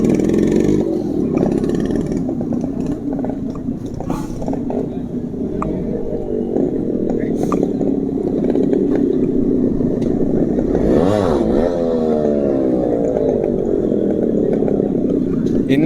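Two-stroke Yamaha RX motorcycles rev and idle at an RX owners' club meet, a steady loud engine drone with rising and falling revs around the middle. A crowd chatters throughout.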